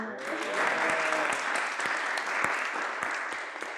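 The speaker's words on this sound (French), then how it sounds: "Vous pouvez continuer à applaudir." Audience applause at a startup demo day in Paris, dense continuous clapping from a large crowd with some individual claps standing out, with brief voices at the start.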